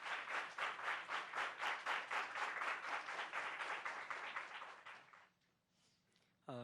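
An audience claps for a singer, with many hands beating in a strong, almost rhythmic pulse that gradually fades out near the end, followed by a brief quiet.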